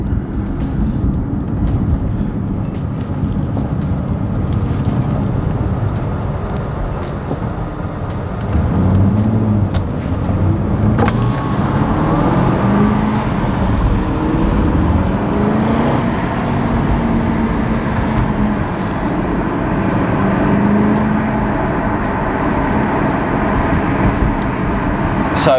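An Aston Martin V8 Vantage 4.7L Sportshift driving in sports mode, its engine a steady, full low rumble with road noise running throughout, rising slightly in intensity partway through.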